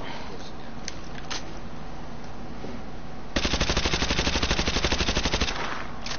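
Fully automatic AA-12 shotgun fire in Call of Duty Modern Warfare, a loud rapid burst of evenly spaced blasts lasting nearly three seconds after a stretch of quieter game ambience and a few isolated clicks.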